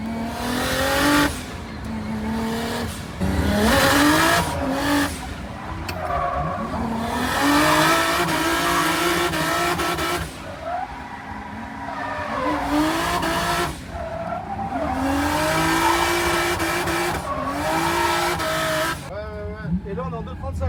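A race car at a car show revs hard and drives off from the start line, its loud engine roaring and squealing nonstop under excited talk in French.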